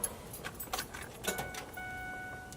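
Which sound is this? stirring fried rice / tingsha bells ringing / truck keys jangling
truck keys jangling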